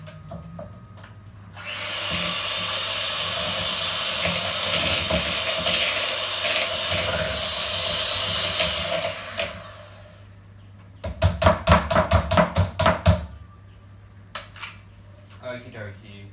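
Ingredients are beaten into a butter mixture in a bowl, giving a sustained scraping, whirring mix for several seconds. A quick run of sharp rhythmic clacks follows, with a few scattered knocks after it.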